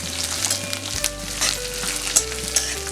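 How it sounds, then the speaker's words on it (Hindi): Chopped coriander and curry leaves roasting in a pan for poha chivda give a bright, continuous sizzle and crackle with occasional louder pops and spoon scrapes, close and steady over a low hum, with no voices. "अब इसे सेक लेंगे थोड़ा"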